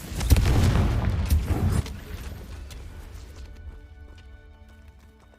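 A Confringo explosive spell bursts in Hogwarts Legacy with a heavy, rumbling blast that roars for under two seconds, then drops away into a fading tail of scattered debris and ringing tones.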